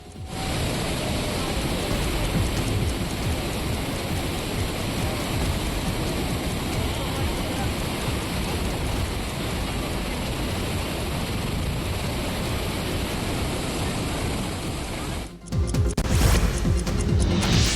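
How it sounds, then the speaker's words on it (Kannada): A powerful waterfall roars continuously, a dense, loud rushing wash of falling water that shifts briefly near the end. "100 ಅಡಿ ಎತ್ತರದಿಂದ ಹಾಲ್ನೊರೆಯಂತೆ ಬಾಳೆ ಬರೆ ಫಾಲ್ಸ್ ಧುಮುಕ್ತಾ ಇರುವಂಥದ್ದು"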